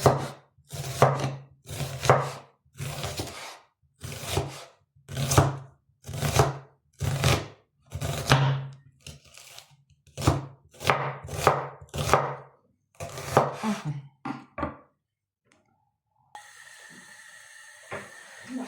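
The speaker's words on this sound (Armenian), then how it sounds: "սոխը կկտրտենք միասին" Knife chopping onion on a cutting board, a steady run of crisp, close, evenly spaced cuts that pauses briefly, then resumes before fading into a quiet hiss.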